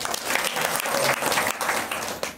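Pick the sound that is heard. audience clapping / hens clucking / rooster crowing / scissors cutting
audience clapping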